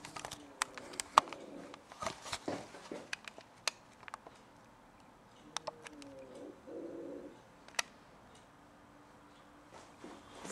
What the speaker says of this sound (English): I'm just going to show you the pigeons.